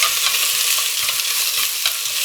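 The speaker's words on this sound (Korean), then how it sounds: "지글지글하는 소리가 나야 제대로 냄비가 달궈진 겁니다." Pork belly sizzles loudly in a hot pot as it is stir-fried for kimchi stew, a close, continuous crackling hiss with faint scraping stirs and no talk.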